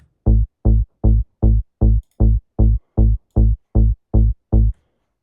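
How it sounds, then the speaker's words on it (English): A trance bass line built from two layered bass parts plays eleven punchy, evenly spaced notes with sharp attacks and quick decays, loud and alone in a steady driving pulse. "this bass line consists of two bass lines"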